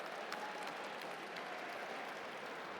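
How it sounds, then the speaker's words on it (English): Audience applause at a centennial gala, a steady, even wash of clapping from a large room, moderately faint and sustained without a break. "Let's give them a round of applause,"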